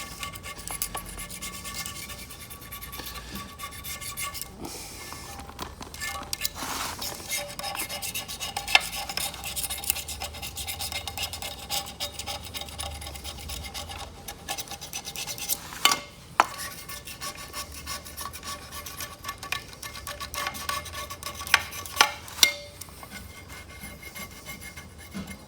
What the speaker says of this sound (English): I'm going to finish cleaning off a little bit of gasket that's on it.